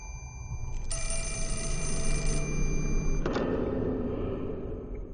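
Telephone in the video game Fatal Frame: Mask of the Lunar Eclipse gives a single loud electronic ring lasting about a second and a half, followed by a click, over a low rumbling ambient drone.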